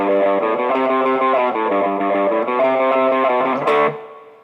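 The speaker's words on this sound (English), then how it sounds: "breaking things up with a little triplet riff" Distorted electric guitar plays a quick triplet riff, walking up to a C and back down to a G, ringing loudly before fading at the end.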